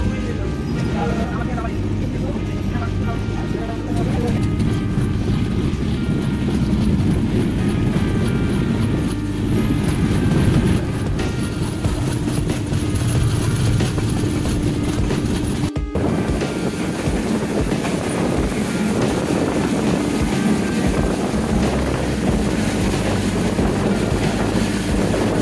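The Ekota Express rolls out of Tangail station in Bangladesh with a continuous loud rumble and clatter of wheels on track, a steady roar that holds for the whole stretch with one brief dropout midway.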